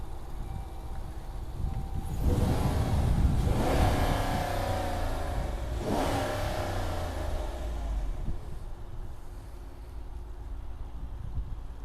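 A Grand Wagoneer engine revved twice while parked, with a long swelling roar followed by a shorter second rev, then settling back to a quieter idle; no voices.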